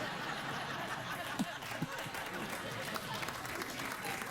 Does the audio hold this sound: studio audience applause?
yes